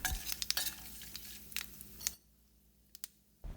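Cashew nuts fried and stirred in a pan with a spoon, giving soft sizzling and scraping clinks up close for about two seconds, then a quiet pause with a few faint taps.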